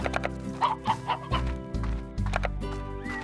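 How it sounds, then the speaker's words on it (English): Chickens cluck in the video game Slime Rancher, a few short clucks and squawks close up against a layered, tonal game soundtrack, with no talking. "Ooh, more chickens."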